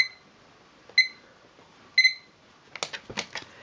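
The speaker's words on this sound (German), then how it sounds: "Ach, der Wecker" An alarm clock beeps three times at steady one-second intervals, loud and close, followed by rustling and handling noises as it is switched off.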